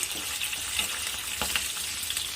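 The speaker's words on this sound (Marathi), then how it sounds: "हे बघा तेल तापलेलं आहे आता यामध्ये मी मिरची ॲड करते" Green chilies fry in hot oil while being stirred, a loud continuous crackling sizzle close up, with soft scraping knocks of the stirring utensil throughout.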